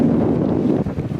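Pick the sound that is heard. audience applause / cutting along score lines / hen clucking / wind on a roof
wind on a roof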